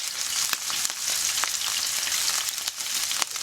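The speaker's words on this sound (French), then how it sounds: "C'est simplement de venir les griller pour améliorer l'aspect et le goût" Pre-cooked chicken rolls sizzle steadily in a hot pan, a close, dense frying hiss with occasional crackles and pops as they brown.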